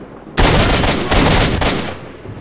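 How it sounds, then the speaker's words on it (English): Loud, close bursts of gunfire in S.T.A.L.K.E.R.: Shadow of Chernobyl, two dense volleys of rapid shots that fill the sound for about a second each, with no talking. "I shot you in the head!"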